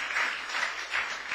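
Congregation applause at a church service, a short steady burst of clapping from many hands filling the room, fairly loud with no talk over it.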